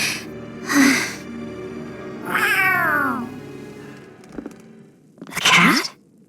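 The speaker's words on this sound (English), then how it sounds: "A cat? Where'd it come from?" A cat meows several times in the video game Tales of Arise, each call a separate drawn-out cry with a soft thump between them, heard close and clear with no talking.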